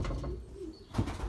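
Belgian racing pigeons cooing in a loft, soft low coos at close range, with a slightly louder call near the end.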